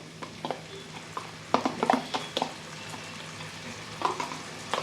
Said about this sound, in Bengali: এই যে গোলা মশলাটা দিয়ে দিলাম